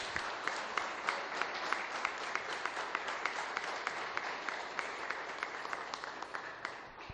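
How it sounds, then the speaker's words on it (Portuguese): A church congregation applauds during a sermon on Psalm 91, a steady, even wash of clapping heard from some distance, with sharp individual claps standing out at regular intervals for about seven seconds. "aplauda ao Senhor"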